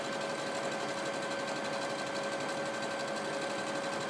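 A sewing machine runs a straight stitch across fabric, a steady, continuous mechanical whir with a fine rapid pulse, close and even throughout with no talk.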